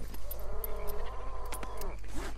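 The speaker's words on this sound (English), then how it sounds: "And that would be a cow in the" A cow at a nearby farm in Red Dead Redemption 2 gives one drawn-out bleating moo with a wavering tone, heard over a steady low in-game background hum.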